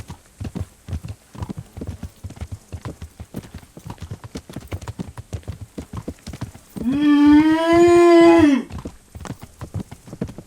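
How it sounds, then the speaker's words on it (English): A cow lows once in the medieval role-playing game Kingdom Come: Deliverance: a loud, drawn-out call of nearly two seconds, heard over steady clopping hooves. "It was a cow, Anna."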